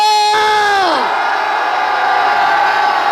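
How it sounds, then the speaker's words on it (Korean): A rally crowd near the Lotte Hotel in Busan, South Korea, bursts into a loud shared roar after a single voice's falling call, the massed shouting holding steady and dense. "롯데호텔 흔들흔들하게 다같이 함성 10초 발사!"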